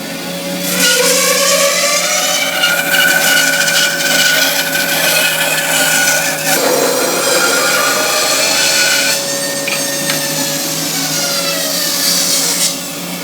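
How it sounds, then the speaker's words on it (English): A 9 mm thick piece of wood being sawn lengthwise down the middle into two veneers, a steady, continuous rasping cut of about twelve seconds that stays loud and close, with no talking. "this piece of wood is 9 millimeters across, and I'm going to cut it down the middle"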